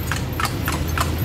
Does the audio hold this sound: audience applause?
no